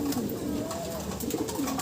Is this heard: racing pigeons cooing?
yes